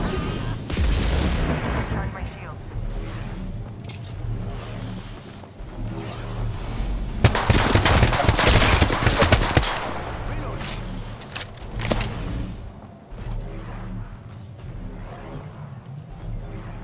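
Gunfire in the Apex Legends battle royale, with rapid shots and bursts of weapon fire in a dense, noisy game mix that peaks in a loud volley near the middle, while other game sounds continue around it.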